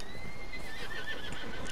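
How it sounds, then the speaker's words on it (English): A horse in Red Dead Redemption 2 lets out a loud, close whinny that rises and wavers for under two seconds, standing alone with no talk over it. "Get on my horse."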